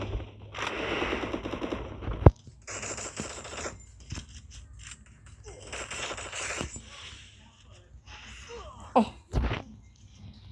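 Gunfire in a shooter video game: stretches of rapid automatic fire broken by short pauses, with a few sharp, loud single shots standing out above the bursts.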